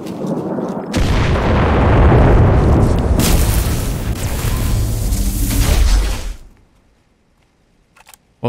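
A grenade blast in the shooter game CRSED: F.O.A.D. arrives as a sudden loud boom that rolls on for several seconds, then cuts off to near silence with a few faint clicks.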